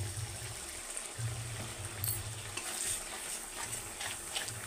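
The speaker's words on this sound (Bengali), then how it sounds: "এখন আমি এখানে দিয়ে দেব ফেটিয়ে রাখা দই।" Whisked yogurt going into hot oil and frying masala, stirred in a pan for an egg posto curry, with continuous sizzling and the scrape of a spoon against the pan, no talking.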